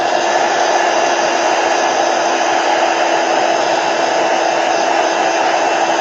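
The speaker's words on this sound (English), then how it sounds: "I'm going to heat set it." A heat tool runs steadily and loudly for the whole stretch, a constant blowing whir used to heat set paint on a wooden palette craft project, with no talking over it.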